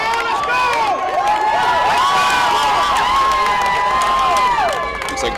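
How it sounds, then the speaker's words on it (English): A crowd cheers and roars at a youth football game between the Brunswick Railroaders and Baltimore Rams, a loud, sustained wall of shouting voices with high excited yells over it, no single talker standing out. "Now you hear the crowd getting into it now."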